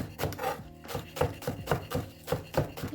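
A knife quickly chops green onions with a steady, close rhythm of about two or three crisp strikes per second, heard alone.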